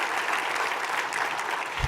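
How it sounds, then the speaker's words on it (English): An audience applauds at a breakfast event, a brief, steady burst of many hands clapping together in a room, continuous and fairly loud throughout. "Let's give them another round of applause."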